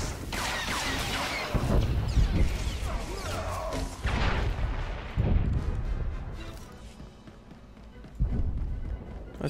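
In the video game Star Wars: The Old Republic, a cannon fires several heavy booming blasts with crashing impacts, spaced a few seconds apart, amid combat noise.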